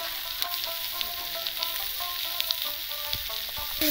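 Potatoes with salt frying for a rohu fish curry, a steady bright sizzle of oil with light intermittent stirring taps, close and continuous.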